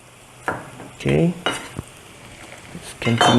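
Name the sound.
frying ginger and aromatics for nasi minyak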